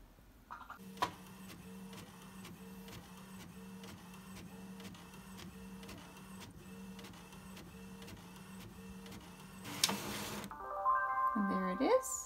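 A printer runs a Cricut print-and-cut page with a steady rhythmic mechanical ticking and whirring for about nine seconds, ending in a louder paper-feed burst and a short electronic whine, fairly faint and close.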